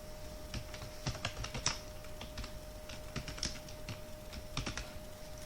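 Someone types a name at a steady, quick pace on a computer keyboard. The keystrokes are soft and close-up over a low background hum, and no one speaks.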